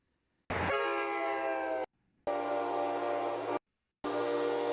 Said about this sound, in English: So we're going to start with this train horn.